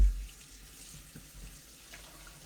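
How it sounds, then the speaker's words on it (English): A kitchen tap runs into the sink as hands are washed, a soft, steady low water rush with faint splashes, quiet and unbroken, no talking. "just gonna wash my hands once again"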